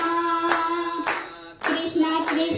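An audience at a Bhagavat Katha devotional gathering claps with hands raised, loud bursts of applause in several waves broken by short pauses, with sustained music tones underneath.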